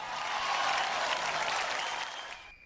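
Audience applause at a dance show, a dense sustained wash of clapping from a crowd that stays loud throughout and fades in the final moment.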